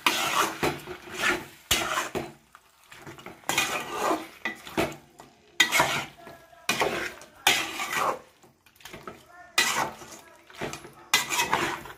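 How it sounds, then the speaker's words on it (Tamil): Quail being stirred with ginger garlic paste in a pan, loud bursts of a metal spoon scraping and clanking against the cookware, separated by brief pauses, with a light sizzle underneath. "இஞ்சி பூண்டு பேஸ்ட் நல்லா காடையில் போடுறப்போ நல்லா மிக்ஸ் பண்ணிக்கலாம்"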